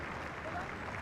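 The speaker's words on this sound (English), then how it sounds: "there's applause for the stretcher team" Applause for the stretcher team at a rugby sevens match between Sri Lanka and Malaysia, a brief, steady wash of distant crowd clapping lasting about a second at low level.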